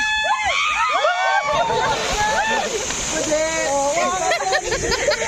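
People jump into the sea at Hundred Islands in Bolinao, sending up loud splashes and sloshing water, while excited voices shout and chatter close by.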